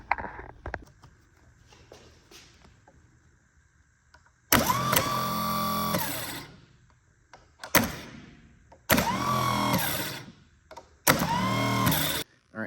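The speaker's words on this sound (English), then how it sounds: "starter appears to be working good" A starter motor from a 322 Nailhead engine, bench-tested on a battery, whirs in four separate bursts of about one to two seconds each, loud and close. Quieter clicks and rattles fall between the bursts.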